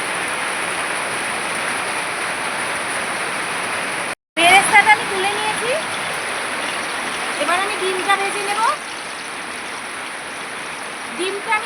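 Heavy rain pours down outdoors in a steady, loud wash, briefly cut off then resuming, with a voice talking over it and light clinks in the background.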